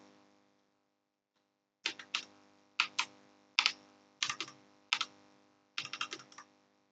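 Keys clack on a computer keyboard in several short bursts separated by brief pauses, close and fairly quiet, with no one speaking.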